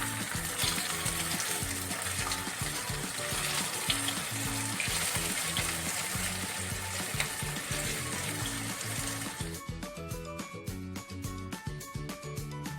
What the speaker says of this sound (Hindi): दोनों तरफ से हम इस अरबी को हम गोल्डन ब्राउन होने तक इनको हम फ्राई करते हैं।